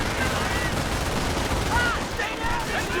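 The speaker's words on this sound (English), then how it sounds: "So that means his machine gun's shooting out of this window." Machine-gun fire crackles steadily in a Company of Heroes battle, a dense continuous rattle of gunfire behind the action with no speech.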